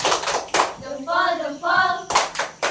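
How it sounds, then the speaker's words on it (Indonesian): A classroom group does a rhythmic salute clap, sharp bursts of hand clapping at the start and end with a voice chanting in between. "Tepuk salut."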